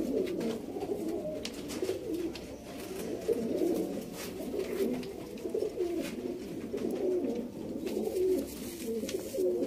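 Sialkoti pigeons coo softly and steadily, several low, rolling calls overlapping in a quiet loft with no voices.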